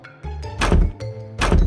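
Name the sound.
knocking on a door in an animated story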